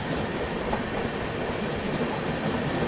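A Sampark Kranti express overtaking another train between Delhi and Mathura near Vrindavan Road gives a loud, steady rumble of rolling wheels and carriages, with a brief high squeal of wheels early on and no voices.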